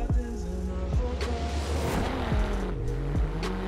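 A car launches at the start of a race in the video game Forza Horizon 4, its engine revving and rising through repeated gear changes with a tire squeal, loud and continuous, with no talking.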